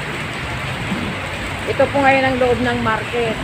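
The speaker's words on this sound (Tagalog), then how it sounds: "oh, nalakas ng ulan." Steady rain hisses in the background while a person speaks nearby, the rain continuing under the voice.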